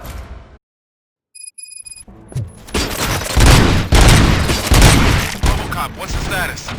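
Gunfire in the Robocop Rogue City video game: after a brief silence and a few electronic beeps, a loud, sustained burst of rapid shots and booming impacts erupts and keeps rolling to the end.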